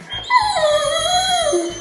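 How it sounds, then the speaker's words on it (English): A trained dog howls on command to sing, one sustained close wavering howl with rising and falling pitch and a whimpering quality, loud and alone with no talk over it. "She's just a smart dog. Sing."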